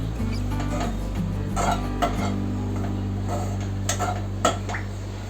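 Grated coconut stirred and roasted in a pan, light scattered scraping and tapping of a spoon against the metal pan over a steady low hum, with a few sharper clicks.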